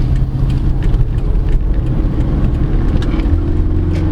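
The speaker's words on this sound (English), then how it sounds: "Oh, a little bit of tire spin there." A 2017 Isuzu MU-X 3.0 LS-A 4x2 automatic accelerates hard with brief tire spin, its loud, close engine rising with a rough, steady roar.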